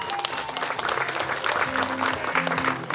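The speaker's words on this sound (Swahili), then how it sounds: "Simpigie makofi" A crowd applauds at a primary school classroom handover ceremony, with dense, sustained hand clapping at close range and faint voices mixed in.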